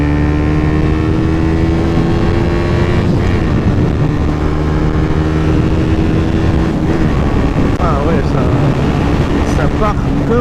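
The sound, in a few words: Suzuki GSX 125 motorcycle accelerating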